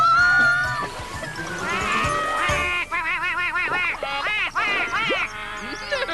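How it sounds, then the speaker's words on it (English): Cartoon hens in the animated series Noddy's Toyland Adventures squawk and cluck in a rapid, overlapping series of wavering, nasal calls, rising and falling in pitch, with bursts close together and some voices mixed in. "Stop flapping about, you silly hens."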